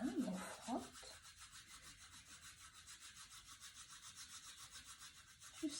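Palms rubbing together in a steady back-and-forth rhythm during a breathing exercise, faint and soft, with a few brief louder touches at the start and end.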